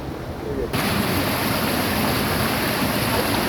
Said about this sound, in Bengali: এই যে এখানে জলটা সাউন্ড আসছে, এই তো এখান থেকে